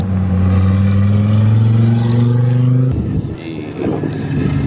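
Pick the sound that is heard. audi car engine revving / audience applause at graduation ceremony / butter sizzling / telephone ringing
audi car engine revving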